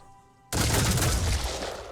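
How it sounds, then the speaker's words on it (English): Heavy machine gun fire in Phoenix Point erupts suddenly after a quiet moment, a loud dense burst of rapid shots that sustains close up before easing slightly. "Sneaking that heavy machine gun fire between the trees"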